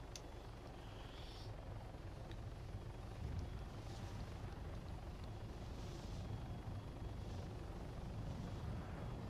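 A Hummingbird light helicopter in the Arma 3 military game drones steadily throughout, a continuous loud rotor and engine roar with faint brief clicks, no talk.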